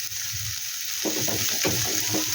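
Carrot pieces frying in a small amount of oil in a pan, a steady soft sizzle throughout with louder crackling bursts and stirring scrapes in the second half, close up and with no talk.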